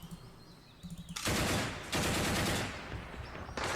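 Rapid bursts of gunfire from units firing in the Panzer Campaigns wargame France '40 at Arras, loud sustained volleys in two or three long stretches after a few short pops.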